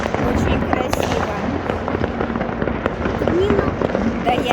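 A New Year 2024 salute in Adler crackles steadily, with rapid bursts and scattered bangs layered together and people's voices faintly mixed in.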